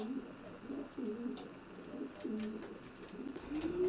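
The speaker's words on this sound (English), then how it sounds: "This is a scene inside Brian's natural loft" Several soft coos from racing pigeons repeat inside a loft, low and rounded, with faint fluttering and shuffling in the background.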